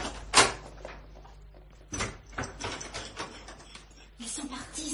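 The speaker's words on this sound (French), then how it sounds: "Fermez bien votre porte à clé." A door shuts with a sharp thump and is then locked, leaving a few faint mechanical clicks and rattles in a quiet apartment-building hallway, in an old French drama. A voice is briefly heard.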